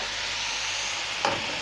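Chicken and vegetables for chow mein sizzle steadily in a hot pan, a constant frying hiss with one brief louder scrape or toss near the end, no voices.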